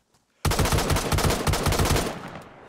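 A sudden burst of rapid automatic gunfire in the video game DayZ during a raid, a sustained rattling volley for about two seconds, loud and close, then a quick fade.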